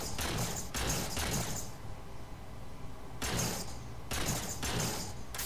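Bursts of gunfire in Halo 4 combat, two clusters of rapid crackling shots separated by a quieter stretch, fairly close and continuous within each burst.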